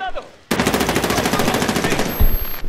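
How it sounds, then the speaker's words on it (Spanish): Loud, close machine-gun fire in Medal of Honor: Warfighter, one sustained rapid burst of evenly spaced shots that starts abruptly and runs for about two seconds before cutting off into a few thuds. "Me están disparando."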